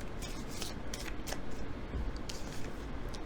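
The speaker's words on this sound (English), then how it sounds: "Let's draw some cards and see if we can get any more about this person coming in" Tarot cards are shuffled and drawn by hand, giving a continuous, close papery riffling and rustling that runs steadily throughout with no pauses.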